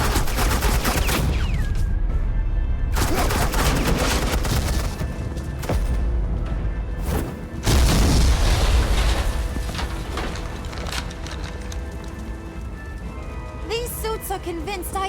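Heavy suppressing gunfire in the video game Batman: The Telltale Series, sustained loud automatic bursts and booming impacts close by, with short pauses and a few explosive hits amid the continuous barrage.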